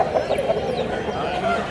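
Country chickens and roosters cluck at a busy village poultry market in Anakapalli district, a few close, short calls over faint crowd murmur.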